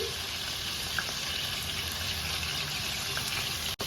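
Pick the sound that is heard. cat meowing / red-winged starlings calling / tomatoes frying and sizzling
tomatoes frying and sizzling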